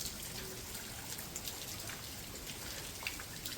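Rain falls steadily outdoors on a farm with cows after an early-morning downpour and strong wind. A faint, even hiss of drops continues throughout, with scattered light patters and no voices.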